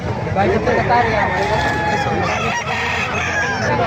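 A large sweater-line gamefowl rooster crowing at a gamefowl farm in Calumpit, Bulacan, with drawn-out calls rising and falling amid other clucking birds while people talk nearby.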